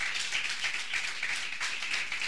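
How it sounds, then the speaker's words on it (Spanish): A church congregation applauds steadily during a sermon, many hands clapping together in a continuous, even patter at moderate distance. "Dale una ofrenda, aplauso al Señor."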